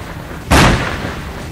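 A single heavy artillery gun fires a shell toward Gaza, giving a sudden loud boom that decays into a lingering rumble.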